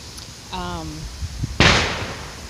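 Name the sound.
fireworks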